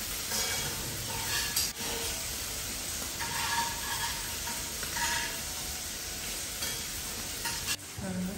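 Prawns frying in a pan for a creamy Cajun prawn sauce, a continuous close sizzle and hiss with occasional stirring scrapes and clinks.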